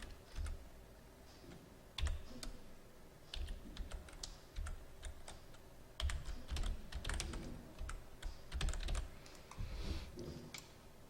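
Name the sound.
typing on a computer keyboard in Excel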